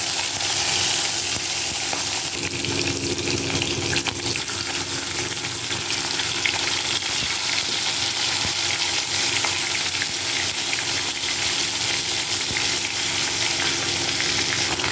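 Rohu fish pieces, rubbed with salt and turmeric, fry in a small wok with a steady, loud sizzle that runs the whole stretch, with faint stirring scrapes and a trickle of water in the background.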